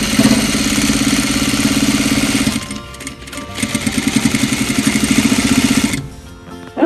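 A sewing machine stitches all the way around the top rim of a fabric cuddle cup bed for guinea pigs and hedgehogs, whirring steadily and loudly, pausing in a short gap, then running again before stopping.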